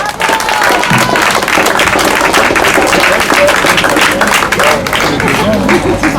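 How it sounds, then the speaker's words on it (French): Theatre audience applauding cyclists who arrived in the rain, loud, close, continuous clapping mixed with some cheering and crowd babble, sustained throughout. "bravo, on les applaudit bien fort"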